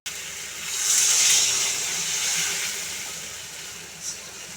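Water poured into a hot pan of fish curry for amodi fish jhal, a steady gushing hiss swelling then easing, close and continuous, with a brief splash near the end and no talking.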